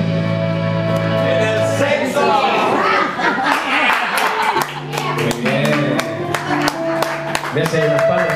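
An audience at a live music performance at a folk venue claps along in a steady rhythm, sharp hand claps repeating over the music with chatter and laughter mixed in nearby.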